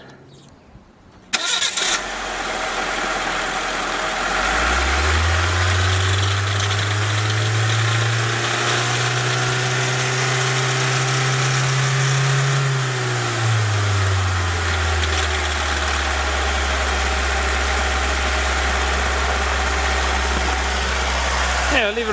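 An engine drained of oil with its sump removed starts with a sudden burst, revs up, holds a high steady speed for several seconds, then settles to a lower continuous run, loud and close throughout.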